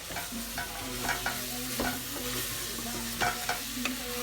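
Potatoes stirred into a sizzling home-made Indian goat curry, with a steady frying crackle under scraping, clinking stirs of a spoon against the pot.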